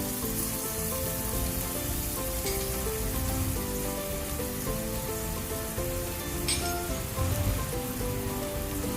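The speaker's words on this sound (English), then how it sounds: "I'm going to introduce my onion. Yes, I'm just going to allow this fry for a bit" Onion fries in hot oil in a pan, giving a steady, dense sizzle with no pauses for the whole stretch and no talk over it.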